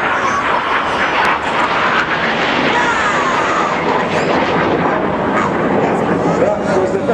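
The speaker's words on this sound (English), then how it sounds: "6 and 7, the synchro pair, fly upside down in close formation, while 8 and 9 barrel roll around their smoke trails." Red Arrows jets flying the corkscrew aerobatic manoeuvre, the synchro pair inverted in close formation while two others barrel roll around their smoke trails; a loud, continuous jet roar fills the whole stretch with a broad steady rush.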